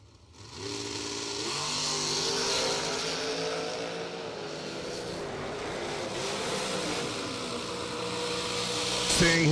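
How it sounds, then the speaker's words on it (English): Drag race cars launching and roaring down the strip at a Christmas bracket racing event, a loud sustained engine howl rising in pitch, heard from a distance under a commentator's voice. "That was a great drag race, Hank."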